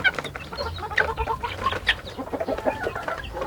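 Incubator-hatched chicks clucking and peeping nearby in a busy overlapping chorus of short calls, with light rustling underneath and no talk.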